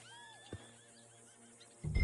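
A horse in the video game Red Dead Redemption 2 lets out one clear whinny, a wavering high neigh that falls away in pitch, followed by a brief thump and a burst of louder noise at the end.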